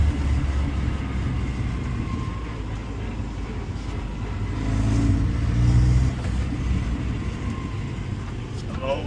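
A Porsche 944 engine runs rough and misfires, a close, uneven low rumble that surges louder midway and then settles, with no voices heard.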